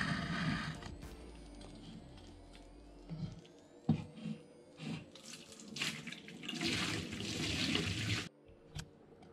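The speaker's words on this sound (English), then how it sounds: "So first let me dump that in the sink." Hot water left from making paneer is dumped into a kitchen sink, a splashing, gurgling pour that swells in the middle and stops abruptly near the end, with a few clinks of the pot.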